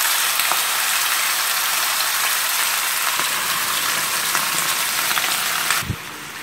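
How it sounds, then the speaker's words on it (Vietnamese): Loud continuous sizzling and crackling of chicken frying in hot oil in a pan, steady throughout, with a brief clatter near the end as it quiets slightly. "Rồi các bạn cho gà vào rán sơ qua trước."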